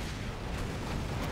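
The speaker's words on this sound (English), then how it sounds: "Particle cannon activated." Particle cannon superweapon firing in the real-time strategy game Command & Conquer Generals, a dense continuous roar of rumbling, crackling energy that stays loud and steady throughout.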